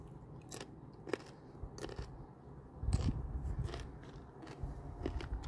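Crisp, crunchy bites into fresh produce, several sharp crunches followed by close chewing, with no talking.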